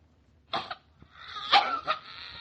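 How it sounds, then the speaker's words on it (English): A boy gives a few short, rough coughs at close range, one brief burst followed by a longer hacking fit, with no speech over them. "Hey, what are you coughing about?"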